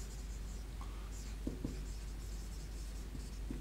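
A pen scratches on paper during a chemistry lesson in short, faint strokes against a quiet background hum, with no one speaking.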